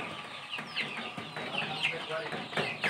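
KUB kampung chickens on a farm cluck and call repeatedly in short, close bursts, with a few squawks standing out over a steady background of flock noise.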